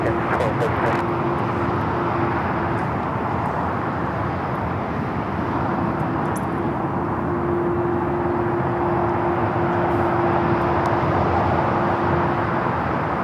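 A Singapore Airlines airliner pushing back from the gates at LAX gives off a steady, loud engine and ground-equipment roar with a sustained hum, and people talk over it throughout.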